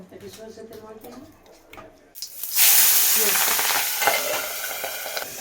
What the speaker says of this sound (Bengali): এই পাবদা মাছ ভীষণ ফাটে ভাজার সময় ঢাকা দিয়ে দিয়ে ভাজতে হবে